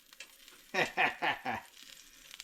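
A leftover-vegetable pancake frying in a pan on its second side, heard as four short, close sizzling bursts in quick succession, then a quiet background.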